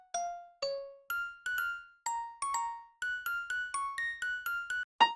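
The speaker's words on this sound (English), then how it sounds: "Okay then, I added this bell counter melody." A synthesized bell counter melody in a music production, a clear sequence of about fourteen bright, ringing bell notes with decaying tails played in a steady rhythm, ending with a brief sharper hit.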